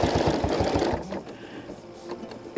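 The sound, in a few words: sewing machine stitching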